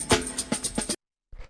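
Hi-hats and tambourine shaker from a famous jungle drum break, a quick looped run of bright, crisp shaker hits, then a brief gap before a couple of softer hits resume.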